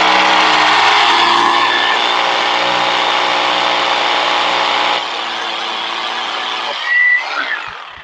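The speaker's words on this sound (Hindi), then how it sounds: "इस जगह पे हम दूसरा ड्रिल करेंगे" A power drill with a number 6 bit bores a hole for a fastener while a Tata Play satellite dish is being fitted. The drill whines loud and close for about seven seconds, then stops with a few clicks.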